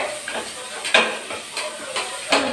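Ginger and garlic sautéing in hot oil in a pan along with cinnamon and onion: a soft continuous sizzle broken by several sharp scraping clatters of stirring, close and moderately loud.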